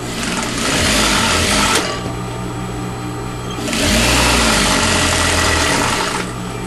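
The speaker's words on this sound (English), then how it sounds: "Now she's sewing the bottom side together, which is the side where the pillow slips in, which will also have buttons." A sewing machine stitching the bottom edge of a fabric pillow sham, loud and close, running in two steady humming bursts separated by a quieter pause, no talk.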